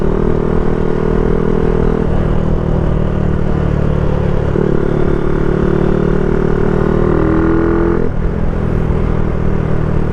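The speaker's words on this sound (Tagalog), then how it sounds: "Daming malalakas dito na motor mga paps." Motorcycle engines drone loudly and continuously on a road in Antique, Philippines, with engine tones rising and shifting as bikes pass close by under steady rushing wind.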